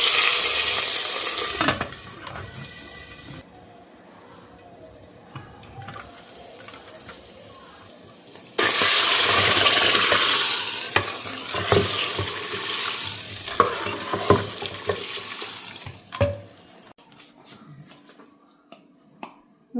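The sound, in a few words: garlic and asafoetida tempering (tadka) sizzling for saag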